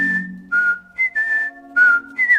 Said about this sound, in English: I'll start to whistle really loud, because I can whistle pretty loud.